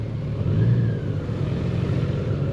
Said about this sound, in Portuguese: Aí ele vai dar a volta com este carro.